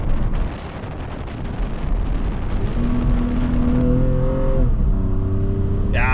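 An Alpina B4 S BiTurbo cabriolet with a chiptuned inline-six drives past on polder roads, a loud continuous engine roar that swells and holds steady, with rising whine tones as it revs, close and without talk.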